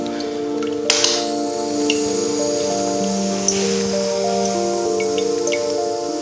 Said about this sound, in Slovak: Spustíme roztrekovanie kvapiek polyaniónu do polykatiónového roztoku.